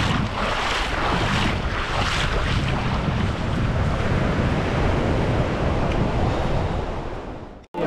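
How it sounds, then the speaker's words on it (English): Boat landing on a beach at Drake Bay in Costa Rica, with steady loud surf and wind buffeting the microphone throughout. Waves wash continuously close by until the sound abruptly cuts out at the end. "the boat pulls up on the beach and you hop off into the water"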